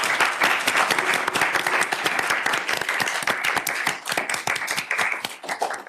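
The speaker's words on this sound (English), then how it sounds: "please join me to give them a big round of applause" A summit audience bursts into dense, steady applause for a panel on Sudan, many hands clapping loudly and continuously throughout before tapering slightly at the end.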